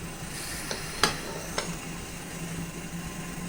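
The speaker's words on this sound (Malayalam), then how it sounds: "കുക്കറിലെ വെള്ളം തിളച്ച് ആവി വരാൻ തുടങ്ങിയിട്ടുണ്ട്." Water boiling in a pressure cooker gives off a steady, close hiss of steam, broken by a few sharp metallic clinks.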